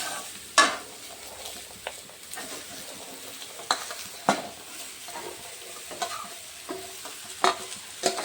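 Bottle gourd being stirred into hot spices in a pan for a Bengali lau ghonto with moong dal, with a steady sizzle and irregular scraping clacks of a spoon against the pan, close up, no talking.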